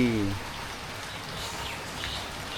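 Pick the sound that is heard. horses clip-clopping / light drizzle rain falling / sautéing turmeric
light drizzle rain falling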